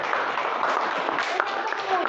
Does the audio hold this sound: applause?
yes